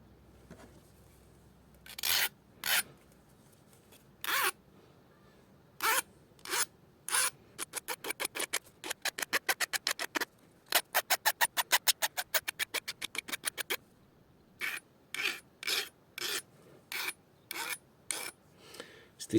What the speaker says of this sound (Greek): Εμένα προσωπικά μου αρέσει να λιμάρω λίγο και αυτό εδώ για να βοηθάει στη διάτρηση.